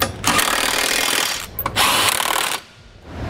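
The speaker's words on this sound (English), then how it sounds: "Now tighten down all your hardware with a 19 millimeter socket." A power tool with a 19 mm socket drives trailer hitch bolts on a 2018 Toyota Highlander, giving two loud, close bursts of whirring rattle separated by a short break, then stopping, with no talk.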